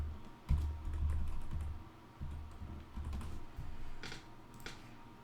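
Keys on a computer keyboard are pressed in short bursts of close, soft clicks over a low background hum, with no voices.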